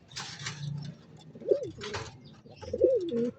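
Soft, throaty coos of an old-line racing pigeon repeat a few times, low and rolling, over faint background rustle and murmur.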